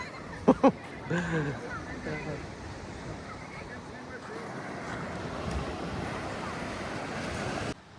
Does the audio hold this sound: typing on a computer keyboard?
no